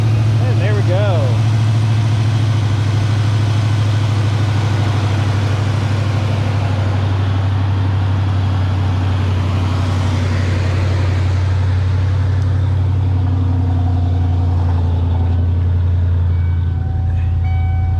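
A 1992 Ford Mustang LX 5.0 V8 convertible, suspected of a faulty ignition switch, idles after starting with a steady, loud low rumble that holds evenly throughout, a faint higher whine riding over it.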